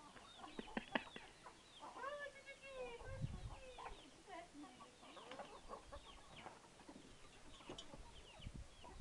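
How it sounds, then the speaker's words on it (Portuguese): Chickens cluck and chirp in irregular bursts on a small farm at sunset, with a crippled young hen among them, fairly faint, while people talk quietly nearby. "Essa galinhazinha aqui nasceu aleijada, Iramar, ó."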